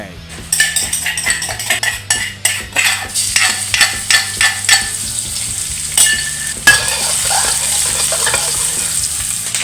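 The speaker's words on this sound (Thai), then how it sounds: "ใส่น้ำมันลงไว้ผัดกระเทียมนะครับ" Loud sizzling of chopped garlic frying in hot oil in a wok-style pan, with rapid metallic scraping and clinking of a utensil stirring against the pan.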